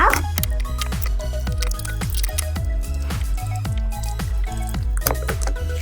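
Slime full of small stars is rinsed and squeezed in clear water, making repeated wet squelches and squishes in a loose rhythm, close and distinct.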